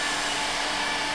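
A hair dryer blows steadily on a freshly patched wall, a loud close-up whirring hiss with a faint whine, unbroken and alone.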